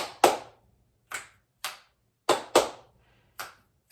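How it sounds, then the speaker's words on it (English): Seven sharp hand claps sound close up at irregular intervals, each a crisp single smack followed by silence. "My snaps are still slow, but my claps are getting better."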